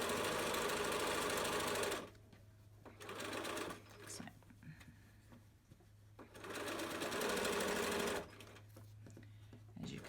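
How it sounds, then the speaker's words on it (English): A home sewing machine stitches a 1/4-inch elastic seam on a fabric face mask, running in two loud steady bursts at the start and end with a quieter pause between. "you're going to sew the width of the elastic, back stitch, and then sew the whole seam down"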